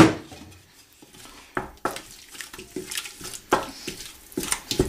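A spoon stirs harissa in a metal cooking pot, giving irregular clinks and scrapes against the sides that come close and fairly loud over a quiet background.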